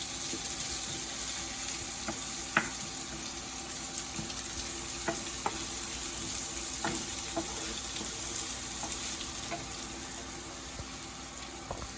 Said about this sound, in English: Put it in low flame, and you don't need to go till golden brown.